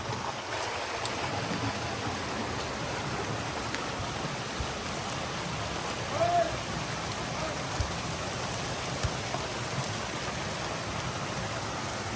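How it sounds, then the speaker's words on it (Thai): Steady, dense rain hisses evenly throughout, a constant wash of falling drops with no voices. "ฝนก็ตกนะ"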